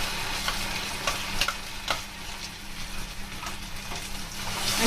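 Masala frying in hot butter and oil for paneer lababdar, a continuous bright sizzle with irregular spatula scrapes and stirring knocks, fairly close and without talk.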